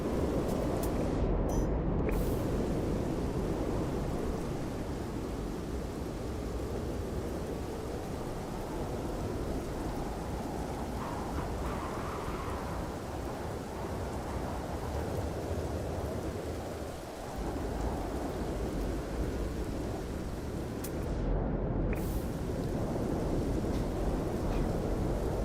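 A thunderstorm in the game No Man's Sky, with steady heavy rain and rumbling thunder filling the scene continuously and loudly, wind-like noise throughout and no talk.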